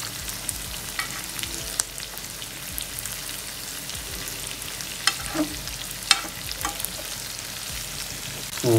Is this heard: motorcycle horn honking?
no